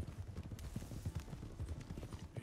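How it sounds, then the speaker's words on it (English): Hooves clip-clop in a quick, uneven rhythm, fairly close and quiet, as a horse trots nearby in Red Dead Redemption 2 on PS4. "Now my temporary horse is gonna come over here."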